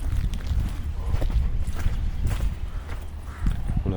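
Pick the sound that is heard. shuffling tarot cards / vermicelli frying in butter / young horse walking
young horse walking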